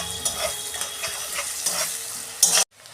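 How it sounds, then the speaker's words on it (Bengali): Onion frying in hot oil until reddish, a brief, close, bright sizzle with a few stirs that cuts off abruptly near the end. "পেঁয়াজটা আমি একটু লাল লাল করে ভেজে নেব।"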